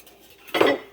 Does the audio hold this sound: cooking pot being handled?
yes